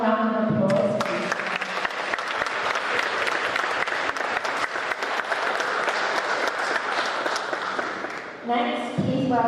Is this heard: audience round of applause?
yes